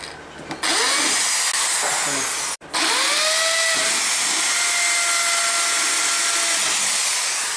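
Power drill boring holes in a copter air frame, a loud close whine running almost continuously, briefly stopping and restarting partway through, with pitch shifting as the bit bites into the frame.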